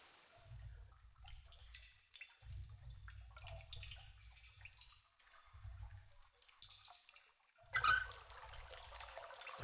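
Water drains away in the realMyst video game, a soft continuous trickling and gurgling with low rumbling surges that come and go, quiet and without any talk.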